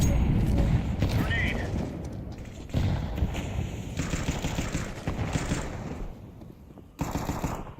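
Rapid automatic gunfire and heavy thuds from the video game CS2 ring out in loud bursts that pause and return, with players talking over the shooting.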